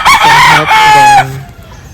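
A rooster crows loudly and close, a drawn-out cock-a-doodle-doo in two rising-and-falling phrases that fades out after about a second, with nothing else heard.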